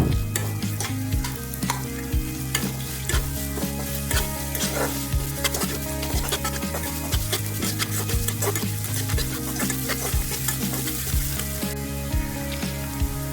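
Chopped onions frying in oil in a pan, a loud continuous sizzle with frequent scraping and clinking stirring strokes throughout.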